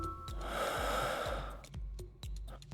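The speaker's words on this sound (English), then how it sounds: "I think I heard breathing." Breathing of an injured casualty in a first aid video game, heavy, noisy breaths and snorting gasps up close, with a few sharp clicks and taps between them.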